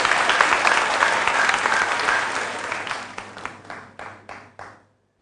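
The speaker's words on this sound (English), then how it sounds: "a round of applause to our contestants" Audience applause for contestants at a quiz competition: steady clapping from a crowd that thins out into a few scattered, separate claps before fading to silence.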